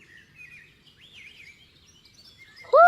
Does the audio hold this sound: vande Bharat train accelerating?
no